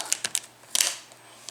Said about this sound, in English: Some mechanical keyboards sound different.